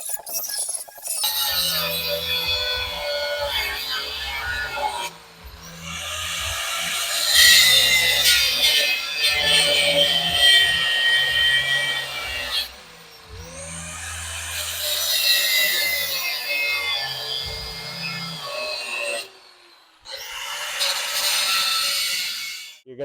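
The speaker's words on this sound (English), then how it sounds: "I'm going to be cutting a cross pattern on the rivets right here on the top of them" Cutting tool grinding a cross pattern into the heads of chassis rivets on a 1957 truck, loud rasping bursts starting and stopping several times with brief pauses between.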